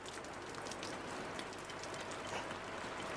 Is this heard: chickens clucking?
no